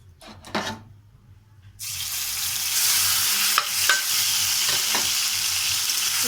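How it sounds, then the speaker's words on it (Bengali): Ground spice paste hits a hot pan for a potato and vegetable curry, and after a quiet opening with a few stirring knocks it breaks into a loud, steady, close sizzle with occasional scrapes. "এই মশলাগুলো আমি এখানে ভেজে নেব"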